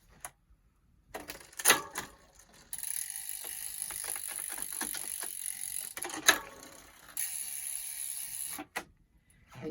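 Bicycle rear derailleur shifting down to the smallest cog on the cassette during roadside flat tire repair: close ticking and ratcheting clicks from the drivetrain in irregular bursts, with a sharp click or two, no talk.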